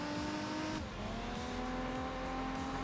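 Aggressive high-revving V6 race car engine in Enthusia Professional Racing, a sustained loud whine that dips briefly as it shifts, then climbs again, with faint tire noise underneath.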